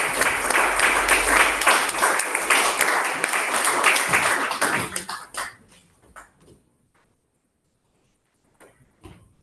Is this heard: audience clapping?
yes